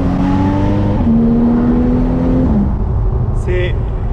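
A Porsche sports car with a 315 hp engine and a seven-speed PDK dual-clutch gearbox, heard from inside as the engine climbs in pitch under acceleration, shifts, then quickly settles back.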